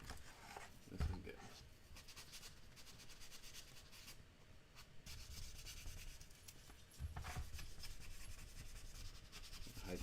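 Sanding tools rub across a painted surface to remove dry spray, producing steady scratchy friction at close range that swells louder in the second half, with a brief knock early on.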